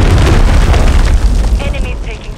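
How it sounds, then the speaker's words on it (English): Cruise missile explosion in a Call of Duty Modern Warfare 3 multiplayer match: a loud, deep rumbling blast that rolls on for a couple of seconds with fiery crackle, under faint game voices. "Hostile cruise missile incoming."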